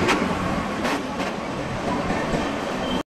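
A passenger train arriving at a station around 7:30, its steady broadband rumble and rail noise filling the scene loudly and continuously, with a few brief brighter bursts near the start.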